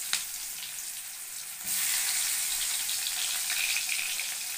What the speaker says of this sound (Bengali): এবার আমি এখানে কালো জিরে দিয়ে দিলাম, তারপর আমি পেঁয়াজটা দিয়ে দেবো।